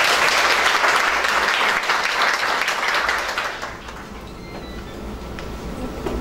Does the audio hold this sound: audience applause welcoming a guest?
yes